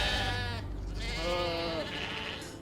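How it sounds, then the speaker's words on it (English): Several sheep bleat on a mountainside in Lofoten, Norway, with drawn-out, wavering calls close by, one after another, filling nearly the whole stretch with no talk. "On my way back down, I was accompanied by a group of sheeps."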